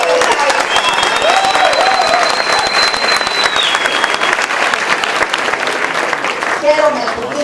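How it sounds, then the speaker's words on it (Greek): Warm audience applause at an album presentation: dense, loud, sustained clapping from a crowd throughout, with a few whistles and a voice rising faintly above it. "Χαίρομαι που δίνετε έτσι ένα ζεστό, θερμό χειροκρότημα για αρχή"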